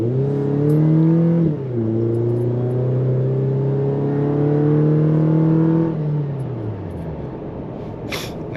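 A 2.7-liter four-cylinder Toyota Tacoma with a Borla cat-back exhaust pulls away and accelerates, its engine note rising through a gear change and holding a loud, steady drone before easing off near the end.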